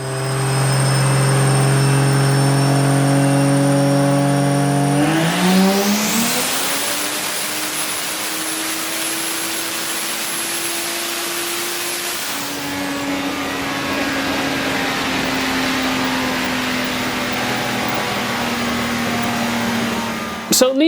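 A turbocharged Vortec 4200 engine revs up under boost, rising into a loud sustained roar with a high turbo whine, holding steady before easing back to a lower drone, with no talking.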